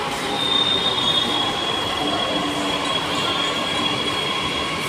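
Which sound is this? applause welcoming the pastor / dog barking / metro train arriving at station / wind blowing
metro train arriving at station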